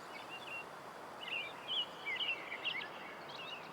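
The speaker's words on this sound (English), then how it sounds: "The birds have got loud again." Birds chirp and tweet in the video game Way of the Hunter, a scatter of short, bright calls over a faint, steady ambient hush, moderately quiet with no talking.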